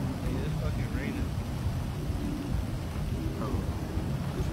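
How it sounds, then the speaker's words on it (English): Rain drumming on a car heard from inside, with low rumbling thunder-like noise, a steady dense wash at moderate level under faint background voices. "it's fucking raining."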